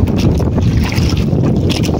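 Strong wind after a typhoon buffets the microphone in a loud, continuous rumbling roar, with gusty rushes and no voices.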